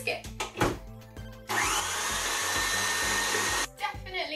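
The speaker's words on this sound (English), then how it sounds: "so now you just whisk it." Vegan marshmallow mixture set with melted agar-agar is beaten with a whisk, giving a steady, loud whirring for about two seconds, with brief knocks and clatter before and after.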